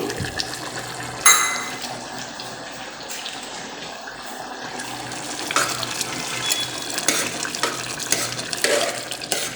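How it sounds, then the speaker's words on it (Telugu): Rice goes into a pot of boiling vegetables for khichdi, with watery bubbling and stirring alongside splashy pours and clatters at intervals, all close by. "ఇప్పుడు ఉడుకుతున్నప్పుడు మనం బియ్యంని అందులో వేయచ్చు."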